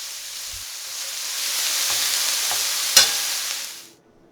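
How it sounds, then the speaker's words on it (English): Onions and apples sauté in a hot pan, a continuous sizzling hiss broken by a few spoon stirs and one sharper clack near the end before it cuts off, close and with no voices. "Now you're going to saute until the onions are translucent and the apples are tender."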